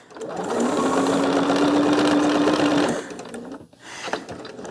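A Bernina sewing machine stitches fabric in one steady, loud mechanical whir lasting a few seconds, then stops, followed by brief handling noises.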